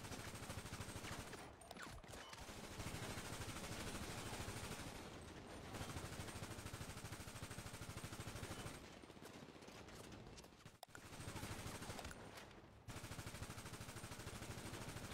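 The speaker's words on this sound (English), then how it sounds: "They shooting over here, look." Sustained gunfire from people shooting nearby, a dense, continuous crackle of rapid shots running almost the whole time, broken by a few brief pauses, loud and close.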